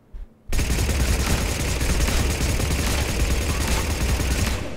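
Blood Pack Punisher firing full auto in Mass Effect 3, a sustained dense rattle of rapid gunfire that starts abruptly after a brief quiet moment and runs steadily to the end, loud and close.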